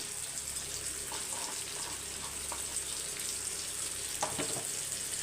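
Oil heating in a pan for gooseberry rasam sizzles steadily, a continuous soft crackling hiss with a few faint pops, no voices.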